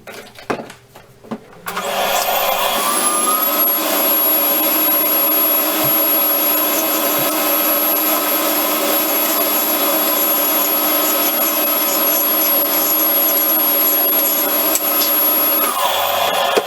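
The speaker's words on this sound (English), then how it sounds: "I think this will suffice just for a dedicated mitre saw vacuum" A cheap household vacuum cleaner serving as a homemade dust collector for a mitre saw switches on after a few knocks and runs with a loud, steady whine, then stops near the end.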